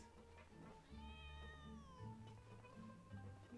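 A cat in the video game Genshin Impact gives one drawn-out, clear meow at close range over low, steady game background music.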